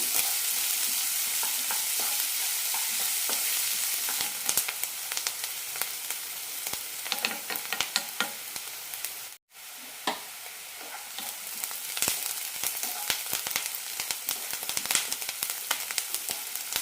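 Onions sautéing in a pan for a chicken cabbage stir fry, a continuous close sizzle with frequent scraping stirs, one brief drop near the middle, no voices.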